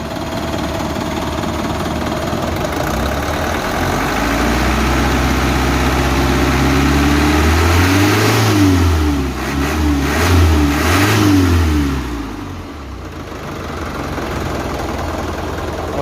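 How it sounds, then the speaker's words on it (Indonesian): Ragasa truck diesel engine, 120 or 135 hp, idles with a low rumble, then revs up and down in several pulses with a rising whine, loud and close before settling back to idle. "suaranya gede, kayak ono bengung turbone to"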